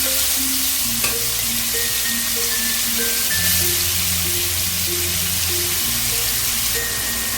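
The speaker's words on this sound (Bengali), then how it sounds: "তাকে এবার চিকেনগুলোকে দিয়ে দিচ্ছি চিকেনগুলোকে আমি একদম ছোটো ছোটো করে কেটেছি ফ্রাই করতে করতে পুরো একদম সেদ্ধ হয়ে যাবে" Small pieces of chicken fry in a pan for mixed fried rice, giving a continuous loud sizzle with a steady crackling hiss throughout and a constant tonal hum beneath it.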